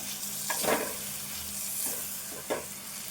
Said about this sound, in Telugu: ఇప్పుడు ఇది మంచిగా ఫ్రై కావాలి.